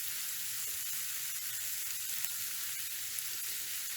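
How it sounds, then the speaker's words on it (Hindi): Chopped onions sauté in hot oil for a bread chicken patty filling, giving a steady, close sizzling hiss throughout with faint stirring and no voices. "और अभी हमने प्याज शामिल कर लिए हैं, इनको हमने फ्राई कर लेना है।"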